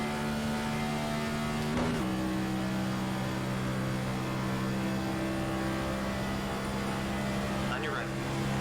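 Racing car engines from the iRacing sim hold a steady, loud drone in a tight pack, one passing car briefly rising and falling in pitch near the start, with a voice talking over the continuous engine noise.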